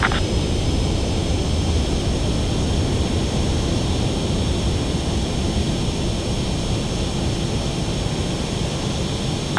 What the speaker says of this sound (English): You're past the guidance limit. Make a visual landing.